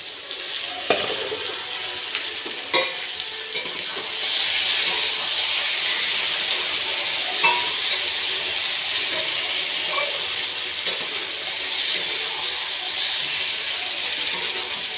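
Chicken sizzles and fries in oil in a pan during a home-style curry, a steady broadband hiss holding throughout with occasional stirring clicks and scrapes, close and continuous with no talking.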